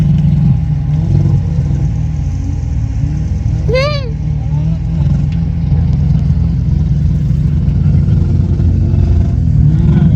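A rally car at a grass skid event revs hard while the handbrake is pulled for a skid on grass, its engine roaring loud and steady throughout, with a brief rising whistle-like squeal in the middle.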